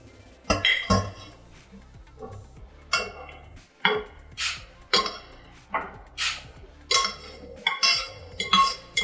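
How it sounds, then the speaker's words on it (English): Drained macaroni pasta tipped into a pot of cheese sauce, giving a series of clinking, scraping utensil and pan knocks at an irregular rhythm, fairly close and moderately loud. "So my pasta is drained and I'm going to add it into my cheese sauce"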